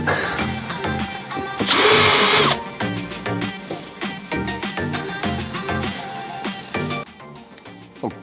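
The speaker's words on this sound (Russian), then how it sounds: "Так, ну, просверлим тут." A power drill bores into a Sprinter 4x4 van bumper, with one loud sustained whine of drilling followed by shorter bursts, clicks and handling knocks nearby.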